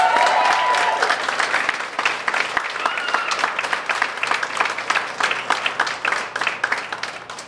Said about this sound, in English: Please join me in giving her a warm, loud round of applause